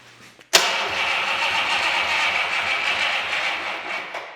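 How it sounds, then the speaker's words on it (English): A 1949 Cadillac 331 cubic-inch overhead-valve V8 cranks over after a sharp start at about half a second, turning steadily and loudly for several seconds with a continuous churning roar and no talk. "I say crank it over for a couple of seconds."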